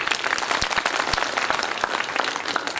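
A crowd at a Bhagavat Katha religious gathering claps loudly and steadily, a dense continuous burst of hand claps filling the space without a break.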